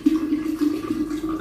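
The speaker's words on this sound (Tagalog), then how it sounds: "Ngayon, lalagyan na rin natin ng tubig." Water pours steadily into a pear cider vinegar mixture, a short continuous trickle with a soft, hollow fill tone.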